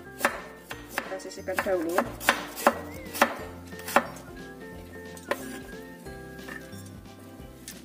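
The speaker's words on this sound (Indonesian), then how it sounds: "Kemudian kita potong serong seperti ini." Knife chopping a peeled broccoli stalk diagonally on a cutting board, a series of sharp, close knocks at an uneven pace, with someone speaking briefly between cuts.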